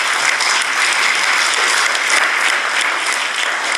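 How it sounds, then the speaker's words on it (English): Sustained applause from an audience at a press conference, a dense, even wash of clapping hands that carries on without pause, fairly loud and unaccompanied by talk. "we all need to clap for that"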